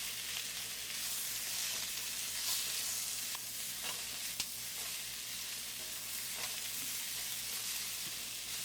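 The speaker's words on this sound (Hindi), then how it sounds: "साथ ही इसके अंदर ऐड करेंगे अनियन। बहुत ज़्यादा नहीं, बिल्कुल 1 से 2 मिनट इसे कुक करेंगे।" Onions for chicken fajitas fry quietly in a pan, giving a low, even, steady sizzle with occasional soft ticks from stirring and no talking.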